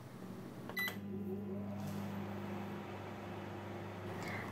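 A microwave oven cooking a mug cake, a quiet steady electrical hum after a click and beep at the start, running alone without talk.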